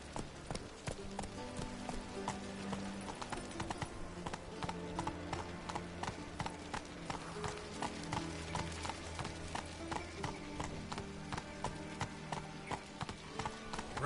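Steady, rhythmic hoofbeats from Roach, a horse in a video game, galloping at a quick even pace, loud and close with layered game music underneath.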